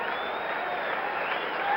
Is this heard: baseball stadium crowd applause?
yes